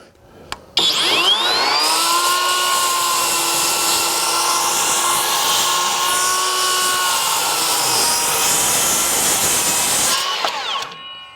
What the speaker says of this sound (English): We're gonna take about 3/4 of an inch off and just see if that will cut both at the